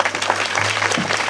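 Audience applauding at a Marathi kirtan: a steady, loud wash of many hands clapping at once, with a low steady hum underneath and no voice on top.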